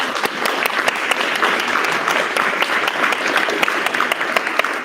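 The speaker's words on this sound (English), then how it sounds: "Give him a round of applause, please." A school audience applauds at a sixth grade awards ceremony for honor roll students, a dense, loud and sustained round of many hands clapping close by, with no voices over it.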